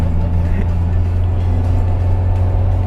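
A Peugeot 206 being driven gives a steady, low engine drone and road rumble from inside the cabin, unbroken throughout.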